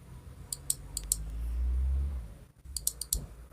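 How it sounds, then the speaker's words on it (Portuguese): Sharp, dry computer mouse clicks come in quick pairs and small clusters, close and crisp against a soft low hum, with a short gap of near silence before a final burst of clicks. "Clique de mouse."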